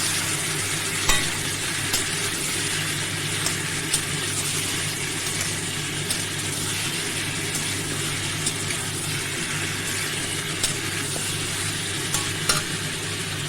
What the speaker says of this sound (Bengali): আদা কুচিটা তেলে আমের সাথে এগুলো ভাজাতে ভাজা হয়ে যায়